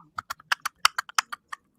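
Horses' hooves clip-clop in a quick, even rhythm, close and clear against an otherwise quiet background.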